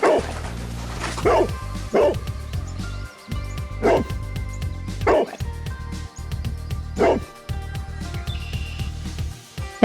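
A dog barks in a series of sharp yips and woofs, roughly one every second or two, close and loud, with a few short whimpers and some background music between them.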